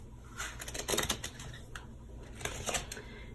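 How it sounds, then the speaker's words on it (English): Cards riffle and snap in quick bursts against a table, soft and close, with a brief pause between two rounds of shuffling. "I apologize if my shuffling gets too loud on this table"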